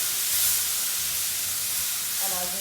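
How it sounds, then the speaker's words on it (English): Tomatoes sauteing in a pan over caramelized, browned vegetables for a vegetarian enchilada filling, giving a steady, moderately loud sizzle and hiss with no talk. "I'm going to add the tomatoes at this point. And then you'll hear the nice sizzle."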